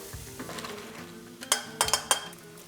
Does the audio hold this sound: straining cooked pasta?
yes